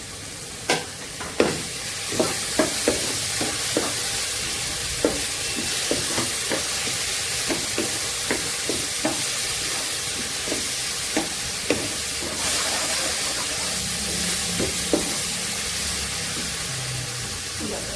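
Fried lentil badi, with salt and turmeric, sizzle loudly in a pan of bottle gourd shukto while a spatula scrapes and taps the pan in a loose, repeated rhythm under a constant hiss.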